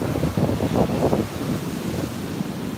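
Waves wash and surge nearby, mixed with gusty wind buffeting the microphone; a few rolling swells rise and fall before settling into steady rush.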